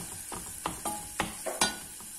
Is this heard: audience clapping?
no